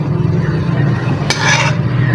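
A spoon stirs an herbal hair-growth oil mixture in a pot, a soft continuous scraping and swishing with one brief louder clink near the end, close by and without talk.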